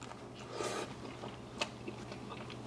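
A bite into a crunchy honey mustard chicken tender gives a close, brief crunch, followed by soft chewing in a quiet room.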